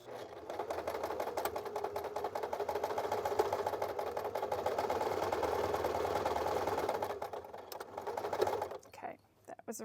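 A sewing machine runs two straight seams across the hem of barrel leg jeans, a steady rapid needle chatter that holds for about eight seconds, then a short burst and stop with handling noise at the end.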